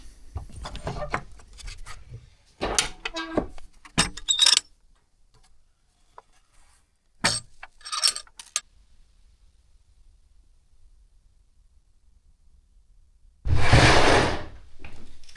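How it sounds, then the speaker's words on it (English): Windows being opened in a cold house under renovation: a few separate clunks and scrapes of latches and frames, nearby and moderately loud, spaced across long quiet gaps, ending in a loud burst of rushing noise. "So I'll open all the windows for half an hour, try and get the air through"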